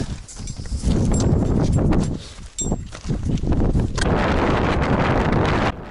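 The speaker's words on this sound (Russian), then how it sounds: "Ветер усилился." Strong wind of about 120 km/h roars and buffets loudly and continuously on a high ridge of Mont Blanc, rising and dropping in gusts with no voices.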